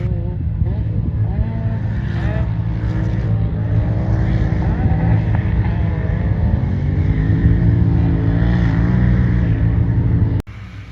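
Can-Am UTVs race across sand dunes at Little Sahara, engines droning loud and continuous with rising and falling revs as they pass, ending in a sharp click and a sudden drop.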